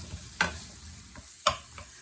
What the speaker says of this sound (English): So all I'm doing is just frying those up.